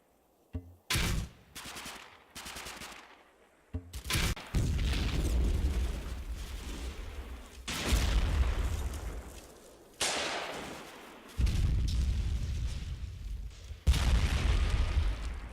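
Artillery fire mission and small-arms fire in the World War II strategy game Combat Mission Final Blitzkrieg: heavy booms and rolling bursts of gunfire come in repeated loud waves, with brief gaps between salvos.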